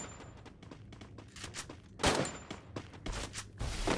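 AUG rifle gunfire in the Free Fire video game, a dense run of sharp shots with louder bursts in the second half, continuous and fairly loud with no talk.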